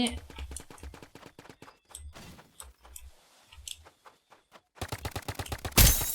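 Rapid bursts of paintball gunfire ring out in the Roblox game BIG Paintball 2, coming in quick clattering strings with short gaps between them and a loud final burst, while players talk over the shooting.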